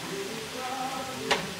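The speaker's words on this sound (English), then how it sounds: "Just saute it for 5 minutes." Chicken sautéing in a pan for corn soup gives a soft, steady sizzle at low level, with one brief sharp clink near the end.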